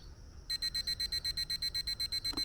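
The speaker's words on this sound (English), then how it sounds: "Turn the alarm off." A digital meat thermometer on a Masterbuilt electric smoker sounds a rapid, even series of high-pitched alarm beeps, loud and close, starting abruptly and repeating steadily until cut off.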